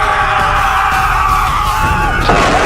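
Screaming and yelling from a film scene set in Molossia, loud and sustained throughout, with bellowing voices and a crowd-like roar.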